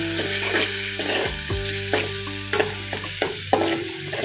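Ginger paste with garlic frying in a pan for a chicken curry, stirred with scraping strokes over a steady sizzle, close up, while a low mechanical hum drones underneath.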